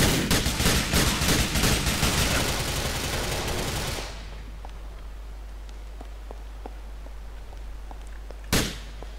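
Dense automatic gunfire rattles nonstop from a Grand Theft Auto IV game scene, loud and close for about four seconds, then cuts off to quiet background with scattered faint clicks and one more sharp shot near the end.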